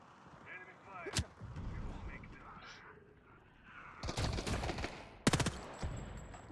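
Enemy gunfire in the ASCENDANT video game crackles in heavy bursts, with a sharp single shot early and dense rapid volleys later, over a rumbling battlefield background.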